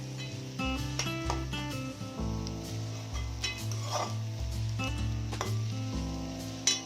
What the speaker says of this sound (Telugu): ముక్కలు అన్నిటికీ కారం పట్టిలా బాగా కలపండి.